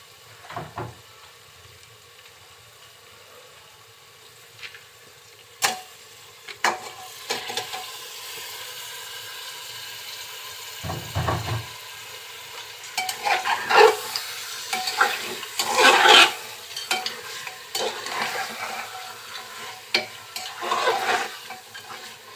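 Beef stirring and frying with spices in a pan for a home-style curry, soft scraping and sizzling that grows busier and louder partway through, with a few sharp utensil knocks.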